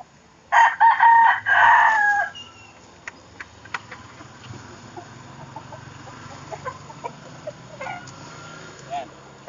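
A rooster crows loudly once near the start, with softer clucks and scattered chicken calls over farmyard background afterward.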